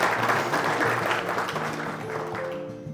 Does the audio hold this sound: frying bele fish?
no